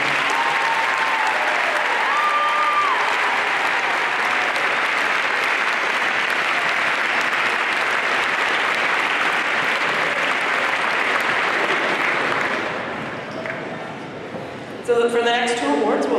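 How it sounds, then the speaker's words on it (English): An audience at a 2017 high school graduation ceremony in Somersworth applauds loudly and steadily for about twelve seconds. The clapping then fades, and a voice begins speaking. "Big round of applause for all of them."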